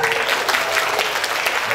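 Applause from the audience at a national dialogue forum, a steady dense patter of many hands filling the room, fairly loud, with a voice speaking faintly underneath.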